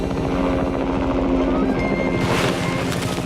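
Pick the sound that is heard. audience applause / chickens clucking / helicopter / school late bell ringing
helicopter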